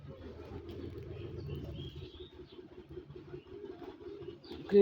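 Jalali pigeons coo softly and steadily while feeding, low and close, with faint rustling and scattered chirps in the background.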